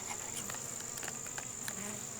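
Honey bees in an open hive treated with thymol give off a steady, dense buzz with a constant hum throughout, close and even, with no speech over it.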